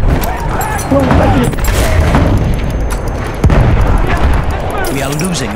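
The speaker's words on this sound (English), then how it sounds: "Grenade out!" A grenade blast in a multiplayer shooter rolls out as a heavy, booming explosion amid steady gunfire and battle noise, with players' voices talking over the loud, continuous din.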